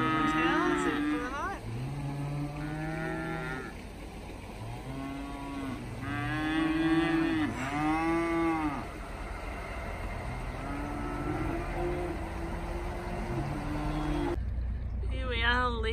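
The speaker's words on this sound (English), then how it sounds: "we also saw the big charge by the cows to milking time." Several cows moo in repeated long, sweeping calls as the herd charges in for milking time, near and loud over a steady rumble of background noise, with a brief quieter stretch at the end.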